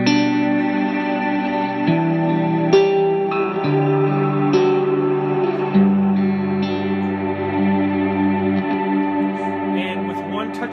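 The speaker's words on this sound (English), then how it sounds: "what I have is a basic reverb here, a reverse delay here, and just my drive pedal" Sustained electric guitar chords drenched in reverb and swelling reversed echoes, with a slightly driven, gritty tone ringing out loudly.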